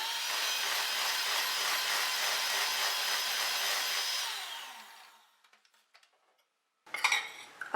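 Cake batter of flour and milk being beaten in a bowl, a steady whisking scrape for about four seconds that fades into near silence, then a short burst of clatter at the end.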